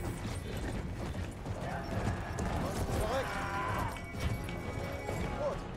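A horse gallops in Battlefield 1 with steady clip-clop hoofbeats under a busy mix of game noise, a whinny cutting through, and someone talking over it.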